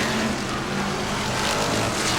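BriSCA Formula 1 stock cars race around the Northampton oval during a 2001 final, a loud continuous roar of several engines that fills the clip without a break.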